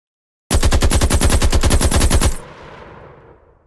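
Rapid automatic gunfire from a Call of Duty style zombies game built in Unreal Engine 5, a loud, close, continuous burst of about two seconds that cuts off into a fading echo tail.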